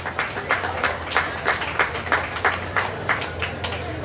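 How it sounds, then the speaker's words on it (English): Audience clapping at a county fair junior livestock sale, a rhythmic round of applause with regular clap bursts, fairly loud and close over a low steady hum, no voices standing out. "give Dan Limber a round of applause there."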